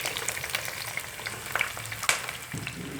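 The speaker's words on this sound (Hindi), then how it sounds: "अब मैं इसमें डालूंगी 2 मीडियम साइज़ के प्याज" Two medium onions hit hot oil in a kadai for bhuna keema and fry with a close, crackling sizzle, broken by spatula clicks and a sharper stir around the two-second mark.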